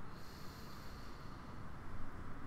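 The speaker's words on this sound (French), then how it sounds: "On inspire. On expire." Slow, deep breathing in and out during prenatal yoga, a close, airy nasal rush of breath that swells slightly toward the end, with no talking.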